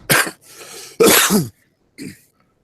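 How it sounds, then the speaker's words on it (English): Three harsh coughs in quick succession, close and loud, with short pauses between them and silence after. "Excuse me, I keep coughing on you guys."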